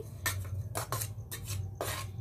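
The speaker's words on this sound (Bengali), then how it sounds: "সব উপকরণগুলো ভালো করে মিশিয়ে নিচ্ছি।" Eggless cake batter ingredients being stirred in a bowl, with four scraping, clinking strokes of a utensil against the bowl repeating at a steady rhythm, close and fairly quiet, with no talking.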